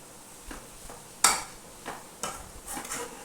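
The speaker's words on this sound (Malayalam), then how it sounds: "ഇതെല്ലാം ഒന്ന് നല്ലതുപോലെ വഴറ്റിയെടുക്കണം" Ingredients for a Malabar chattipathiri filling are sautéed in coconut oil, with faint sizzling broken by a handful of sharp spoon-against-pan clinks and scrapes.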